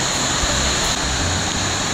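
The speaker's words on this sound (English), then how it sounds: "this green waterfall means we're leaving the aviary" Waterfall in the Discovery Cove aviary, a steady broadband rush of falling water, close and continuous throughout.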